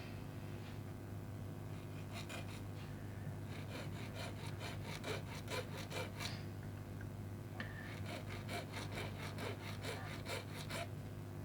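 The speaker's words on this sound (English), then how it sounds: "now I'm going to use a little small file. Try to sand that smooth." A small hand file rubs across a thin plastic strut on a toy-scale Toyota Celica LB twincam turbo model, a run of quick, dry, rasping strokes close up over a steady low hum.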